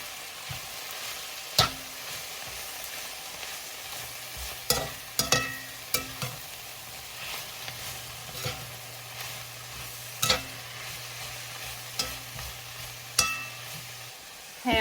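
Leafy greens wilting in a small pan, a soft continuous sizzle broken by sharp intermittent clacks of a utensil stirring and tapping the pan, close and without talk.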